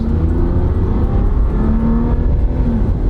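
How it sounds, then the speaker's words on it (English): A car accelerates in traffic with a loud, close engine drone and whirring that rises and holds steady from start to finish, heard alone without talk. "Give it a little gas."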